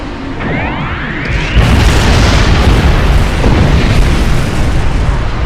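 A Doomsday Weapon fires in the video game Star Trek Online, a loud sci-fi energy discharge that swells into a massive, sustained roaring blast and rumbles on without a break.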